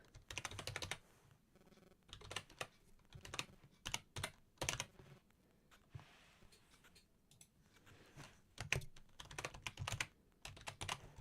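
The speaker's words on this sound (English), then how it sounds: "you guys are right next to the microphone there as I'm typing" Typing on a computer keyboard right beside the microphone, with bursts of rapid, loud key clacks broken by short pauses.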